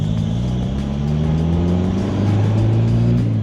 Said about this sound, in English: Now we're back to the misfiring.